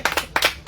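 A few distinct hand claps ring out close by, spaced in a loose rhythm of about four to five sharp strikes within less than a second.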